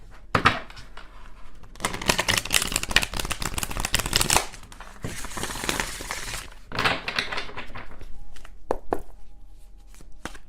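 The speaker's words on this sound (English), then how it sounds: "One more shuffle and then" Tarot cards being shuffled by hand: dense papery riffles and flicks in bursts, loudest in the middle stretch, then softer intermittent shuffling toward the end, close and alone with no talk.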